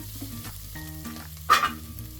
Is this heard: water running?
no